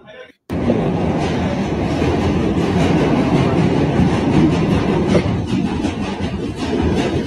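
A New York City subway train rumbles loudly throughout, with a steady clatter of wheels on track and a few sharper clicks, heard from on board.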